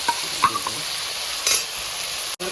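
Banana flower cooks in a pan with ginger and cumin paste and salt, a continuous frying sizzle under a few stirring scrapes and a brief metallic clink near the end.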